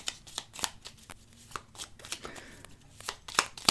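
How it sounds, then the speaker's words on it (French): Tarot cards being shuffled by hand, a soft irregular riffle of light papery slaps and flicks, close and quiet, with no voices. "je mélange un peu plus parce qu'il y a longtemps qu'elles sont plus sorties de ces boîtes, de ces cartes"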